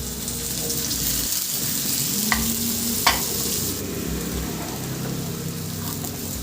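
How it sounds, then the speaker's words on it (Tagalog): Garlic and ginger sauté in a hot pan with a dense, steady sizzle like light rain, punctuated by a couple of faint utensil taps; no talking over it. "igisa ko na yung bawang at luya"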